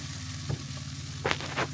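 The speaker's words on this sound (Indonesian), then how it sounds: "Tumis lagi sampai tomatnya melembut." Garlic, tomato and chili stir-frying in a pan give a steady sizzle with a few louder scraping stirs near the end, close up and with no talking.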